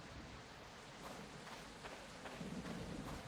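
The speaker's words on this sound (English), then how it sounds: "So while it is raining" Steady rain falls in the survival game Project Castaway, a dense even hiss across the whole stretch with a soft low rumble beneath, no voices over it.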